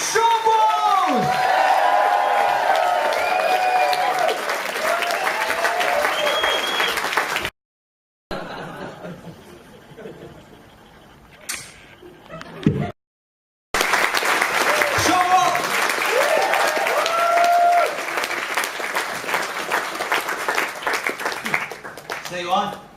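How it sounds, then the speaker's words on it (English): A comedy-show audience claps, cheers and whoops loudly in a dense, sustained roar that breaks off briefly partway, with quieter murmuring in the gap, then surges back. "with level 3 clapping, cheering, whooping, etc."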